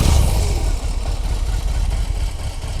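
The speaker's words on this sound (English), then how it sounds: "All right, so I just clutch in and I start the bike." A BMW R18 First Edition motorcycle's big boxer engine sounds close and loud, a rough, throbbing low rumble that settles into a shaky, uneven idle.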